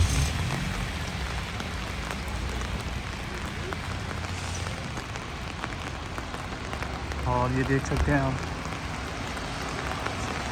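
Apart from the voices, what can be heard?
heavy rain falling on illuminated East Hastings street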